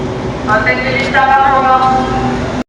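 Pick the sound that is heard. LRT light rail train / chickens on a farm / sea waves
LRT light rail train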